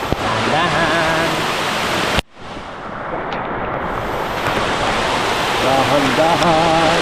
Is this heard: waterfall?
yes